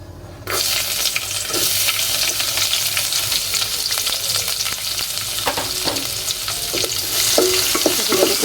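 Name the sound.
frying chopped onion and garlic with spices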